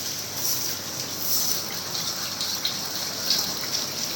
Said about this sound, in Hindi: माशाल्लाह बड़ी तेज़ बारिश हो रही है